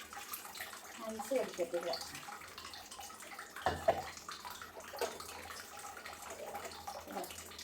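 Water splashes and pours over chopped jackfruit being cooked, a fairly faint, continuous wet rush with a few louder splashes, while a person talks over it.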